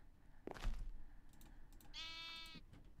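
Sheep in the Minecraft video game bleat once, a clear quavering cry rising above light keyboard clicking and faint background noise, with a brief thud just before.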